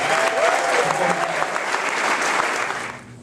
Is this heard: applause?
yes